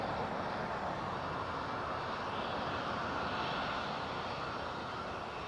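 A Delta airliner taxis slowly at Edinburgh Airport, its engines giving a steady, broad, continuous roar that holds at an even level throughout, with no voices over it.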